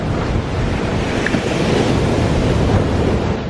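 Strong wind buffets the microphone on Bonny Doon Beach, a steady loud roar mixed with crashing surf throughout, with no talking.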